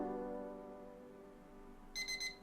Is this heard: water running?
no